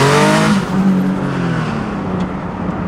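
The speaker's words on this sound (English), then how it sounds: "And then just listen to the wastegates open." Wastegates opening on a turbocharged Nissan VQ engine car, a loud, close engine roar with a hissing rush that tapers off gradually over a few seconds.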